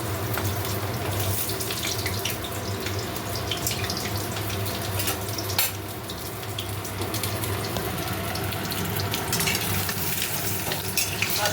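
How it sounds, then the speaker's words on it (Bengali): Potatoes fry lightly in oil in a pan for a lamb and bottle gourd curry, giving a steady, dense sizzle that stays even throughout with no voices. "আলুগুলো এবারে দিয়ে দিলাম, হালকা করে ভেজে নেব।"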